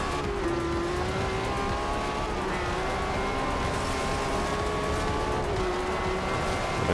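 A Lamborghini Aventador in the Forza Horizon 2 racing game drones at a steady high engine pitch with tire noise, loud and continuous throughout with no talking.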